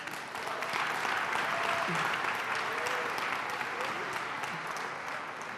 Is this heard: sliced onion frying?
no